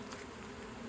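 Honey bees buzz continuously around a queen cage, a steady, faint hum from close by.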